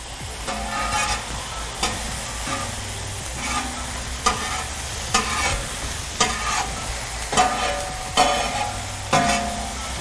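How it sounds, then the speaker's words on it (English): Diced onions sauteing in a tilt skillet and stirred with a large paddle: a steady sizzle runs under repeated scraping strokes that land about once a second, close and fairly loud, with no talk. "For things like sauteing onions, you want to find the hot spots."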